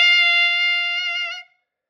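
A clarinet mouthpiece blown with fast air produces one bright, steady, piercing tone lasting over a second before cutting off cleanly.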